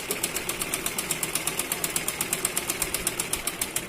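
A sewing machine stitches a blouse seam in a fast, steady run of even needle clicks and motor hum, close and continuous for the whole stretch, with no talking.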